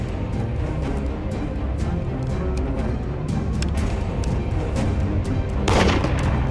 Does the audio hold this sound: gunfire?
yes